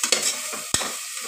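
Tomatoes fry in a pressure cooker for vegetable biryani while a spoon stirs them, giving a continuous close sizzle broken by a few sharp scrapes and knocks against the metal.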